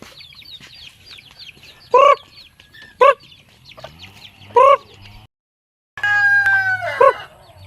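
Chickens cluck and squawk in short loud bursts over a background of chirping birds, with a brief silent gap before more clucking.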